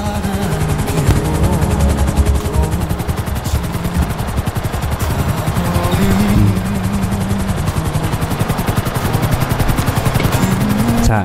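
Helicopter flying in GTA 5 Online, a loud continuous rotor chop with a rapid, steady beat and engine drone throughout, close and without talking.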